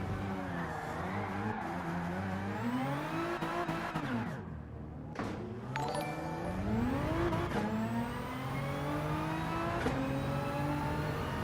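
A race car engine in Gran Turismo 7 revs up and down in repeated sweeping whines, rising and falling pitch close and loud, with a brief drop around the middle before climbing again.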